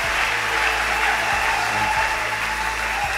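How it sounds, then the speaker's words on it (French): A church congregation applauding for the Lord after a sermon, a dense, steady wash of clapping from a large crowd, loud and continuous throughout with no talking. "on acclame pour le Seigneur"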